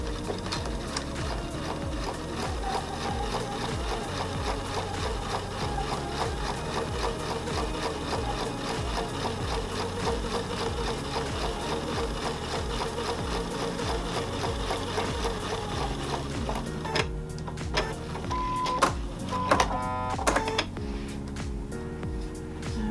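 Sewing machine stitching a flying geese quilt block along a quarter-inch seam, running steadily and close for most of the stretch, then breaking into shorter stop-start bursts near the end.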